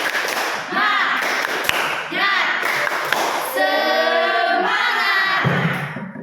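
A classroom group claps in rhythm along a count led by a teacher, with a few sharp claps standing out under loud, sustained chanting voices.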